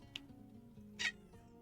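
A big female cat gives a short, high meow or chirp, heard close up over a quiet low room hum, with a tiny squeak just before it.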